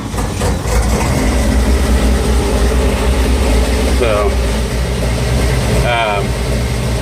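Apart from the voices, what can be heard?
1956 International S160 farm truck engine running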